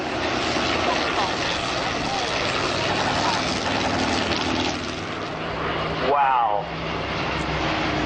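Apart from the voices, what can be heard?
65A aeroplane flying at Shoreham Airshow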